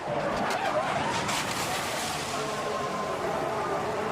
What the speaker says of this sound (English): The two Mercedes come together as Hamilton tried to pass on the inside